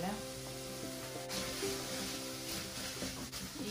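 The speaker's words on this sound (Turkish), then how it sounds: "İyice kavuruyorum." Tomato paste frying in a pan for a green lentil dish, a steady, dense sizzle with occasional stirring scrapes, close up and fairly quiet, with no voices.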